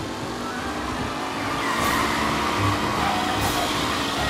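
Car engine and road rumble from driving through the city in Mafia: Definitive Edition, a steady broadband drone with a slight swell midway, no talk over it.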